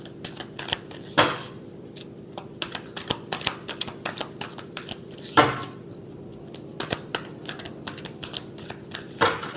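Tarot cards being shuffled by hand, a steady run of crisp papery flicks and taps with a few louder riffles, close and alone without any talk.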